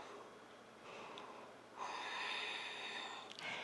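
Ujjayi yoga breathing, a soft, airy, throat-constricted breath that starts faint and swells into a longer hissing exhale partway through, quiet and close, with no talking.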